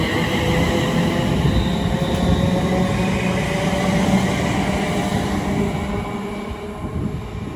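A London Northwestern Railway Class 350 electric unit, a Tring to London Euston service, rolls through Watford Junction on the West Coast Main Line: a steady, fairly close rumble with faint high whine that eases slightly toward the end.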